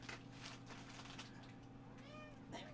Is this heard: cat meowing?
yes